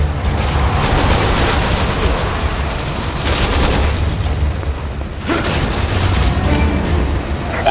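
Gunfire and explosions in Resident Evil 6, a loud, continuous barrage of rapid shots and heavy booms that barely lets up, with only short dips in intensity.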